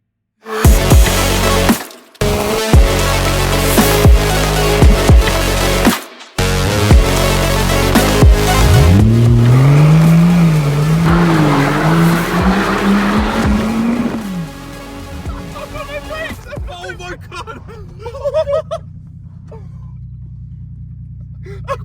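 A Rolls-Royce Wraith with failing brakes drives hard and skids, its engine rumbling beneath long, rising tire squeals that stretch across the middle of the run, with a couple of brief cutouts early on and a quieter, fading tail.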